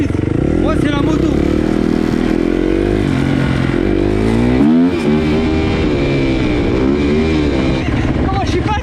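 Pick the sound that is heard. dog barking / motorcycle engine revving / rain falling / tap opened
motorcycle engine revving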